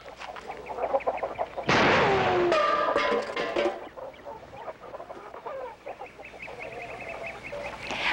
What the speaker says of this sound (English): We didn't know there was chickens in there.